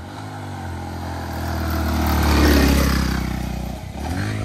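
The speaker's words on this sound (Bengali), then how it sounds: "বাইকে কিভাবে ওঠে দেখেন।" A motorcycle labors up a steep hillside track in hilly Bangladesh, its engine revving hard and swelling in loudness midway before easing, with some clatter and scraping, no talk heard.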